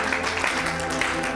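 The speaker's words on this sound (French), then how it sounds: "Applaudissez pour le Seigneur" A church congregation claps during a prophetic deliverance service, a brief, dense burst of many hands lasting just over a second over a steady sustained musical tone.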